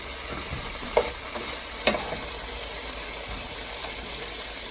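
Browned chicken for a keto lasagna casserole is lifted from a sizzling pan into a bowl, with continuous frying hiss and two sharp utensil clinks against the pan, no voices.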